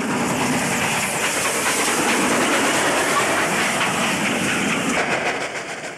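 Steam locomotive in New South Wales, Australia, hauling a down goods train, chuffing and hissing loudly and steadily throughout, with rolling wagons and rail clatter underneath and no talk.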